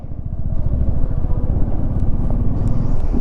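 A motorcycle with a power-drop problem idles up close on the high Chang La mountain pass in Ladakh. The engine gives a steady, low, throbbing rumble with a fast pulsing beat, and no talking is heard over it.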